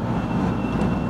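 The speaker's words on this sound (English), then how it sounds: "That coal train" A coal train passes at a Galesburg, Illinois railyard with a steady, loud, low rumble that holds evenly throughout, with no voices.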